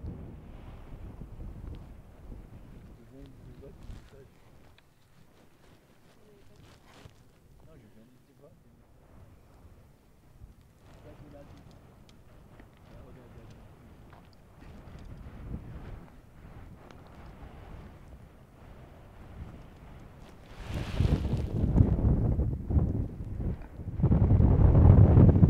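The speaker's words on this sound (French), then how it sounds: "il y a vraiment beaucoup de vent" Heavy wind on a mountain hilltop, Montagne de Sous Dine, buffets the microphone, rumbling low and swelling much louder near the end, with a voice speaking underneath for most of the stretch.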